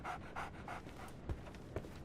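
A dog pants rhythmically in Sherlock Holmes The Awakened, quick close breaths in a steady run, faint and quiet, with a couple of soft footstep thuds.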